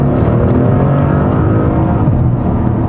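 A 2014 Audi RS6 engine revving hard, a loud, deep, continuous roar with rich low rumble and a steady throaty drone, close and unbroken with no talking.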